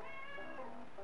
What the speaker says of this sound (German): Mann, ich lasse jetzt meine Katze hier rein.